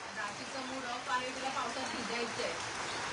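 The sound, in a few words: rain falling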